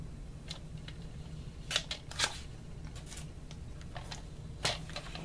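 Craft paper is being cut for a mini album, giving a series of sharp, crisp snips and slicing clicks scattered over a low background hum, close and fairly quiet with no talking.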